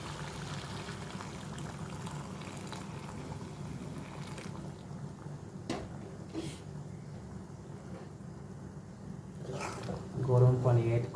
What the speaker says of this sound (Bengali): এখানে আমি গরম পানিটা অ্যাড করে দেব।